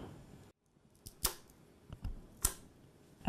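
A wooden skewer stick being cut for gluten-free, beef-free corn dogs gives a few sharp, crisp snips and cracks close up, spaced irregularly, with no voices.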